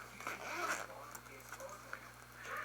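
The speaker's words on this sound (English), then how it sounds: "Okay, so now the second zipper." A zipper on a cloth bag pouch is pulled open in a few scratchy, uneven bursts, close by, with a soft room hum underneath.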